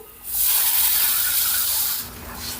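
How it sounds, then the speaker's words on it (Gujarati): A sudden loud sizzling hiss erupts as water is poured into hot oil tempering with garlic paste, roaring steadily for about two seconds before easing off. "હવે આ વઘારની અંદર આપણે પાણી નાખી દેવાનું છે"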